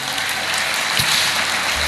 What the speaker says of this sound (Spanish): Dan un fuerte aplauso a nuestro Dios